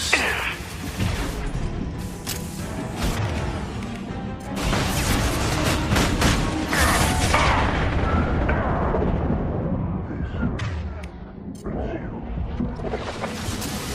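Sustained gunfire and explosive blasts from a Mass Effect 2 firefight fill the scene, loud and dense with repeated sharp reports over rumbling booms, with voices talking intermittently over the combat.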